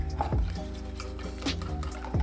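Water added to paneer pakora batter, giving soft liquid drips and wet squishing sounds at close range, with a couple of louder splashy moments.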